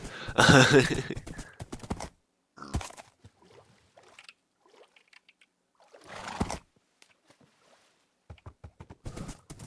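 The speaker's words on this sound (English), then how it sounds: "One of the big things this horse has been useful for is traversing that nether highway." Horse hooves clip-clop in bursts during a ride in a block-building video game, with sharp clustered steps and a snort or whinny among quieter gaps.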